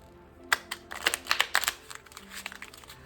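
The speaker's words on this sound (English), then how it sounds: "So let's just shuffle this deck" A tarot card deck is shuffled, giving a quick run of crisp, close riffling clicks and card snaps that taper off toward the end.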